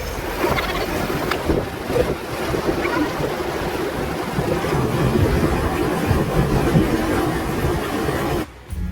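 Boat ride on Titisee lake in the Black Forest, a steady rushing wash of water and wind noise filling the whole stretch without pause, loud and close, easing briefly near the end.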